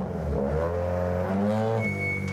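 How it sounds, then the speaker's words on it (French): Rally car engine revving loudly at a specialist garage in a village, a steady harmonic roar that climbs in pitch and then holds, with a faint high whine near the end; no talking. "le bruit des moteurs retentit à 5 mètres à peine de chez sa voisine"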